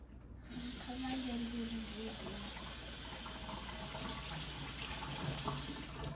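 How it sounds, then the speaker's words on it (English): Tap water runs steadily into a sink as hands are washed under it, a continuous close hiss and splash that lasts throughout. "Okay, now that we did that, let me wash my hands off."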